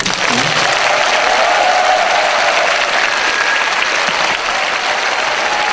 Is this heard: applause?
yes